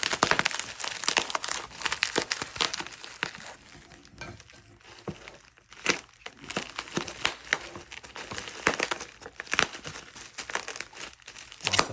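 Tamper-resistant tape being peeled off the box of a Synology DS923 NAS: dense close crinkling and crackling with sharp pops and tearing snaps throughout, without talk.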